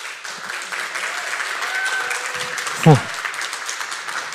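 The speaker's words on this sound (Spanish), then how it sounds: "Fuerte el aplauso." Audience applause at a software testing talk, moderate and continuous, with a voice speaking over it and a brief louder bump partway through.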